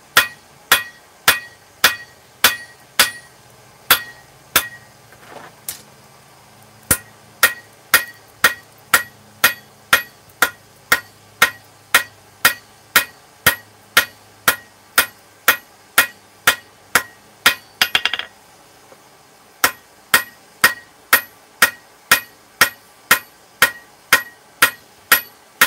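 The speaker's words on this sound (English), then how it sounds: "It also helps with your hammer control, because I'm only hitting with this part of my hammer in the same spot." Hammer forging hot steel into grill tools, a steady run of sharp, ringing metallic blows about once per second, close and loud, with a brief pause and a scrape partway through.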